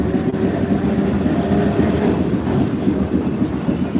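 A New Orleans streetcar riding along its track, a steady close rumble with rhythmic rail clatter throughout.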